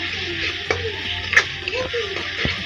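Ginger garlic paste, cumin paste and spices being stirred in a hot frying pan while cooking a prawn-head and mung dal malai curry, a steady sizzle with a few spatula scrapes and clinks against the pan.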